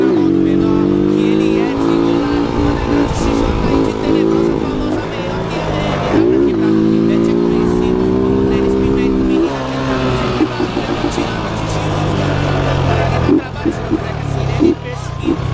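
A 1996 Honda CG Titan 125 motorcycle engine revs and drones loudly nearby, pitch rising and falling through repeated accelerations, with people talking over it.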